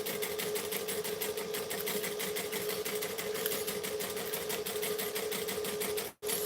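Sewing machine stitching a wallet through existing stitches, running at a steady moderate pace in a rapid continuous rhythm, close up, with no talk.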